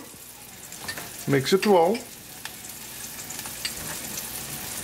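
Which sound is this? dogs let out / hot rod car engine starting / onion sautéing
onion sautéing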